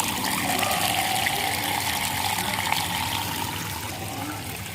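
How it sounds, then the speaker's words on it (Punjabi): Steady, continuous rush of water running along an open irrigation channel on a flower farm, close and even throughout with no voices. "ਖਾਲ ਦੇ ਜ਼ਰੀਏ ਜਾ ਰਿਹਾ ਪਾਣੀ"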